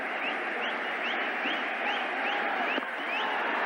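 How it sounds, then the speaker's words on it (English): A cricket crowd at an India vs England Test match fills the air with a steady, distant chanting roar, punctuated by repeated rising whistles and a brief sharper burst near the end. "The crowd chanting in anticipation."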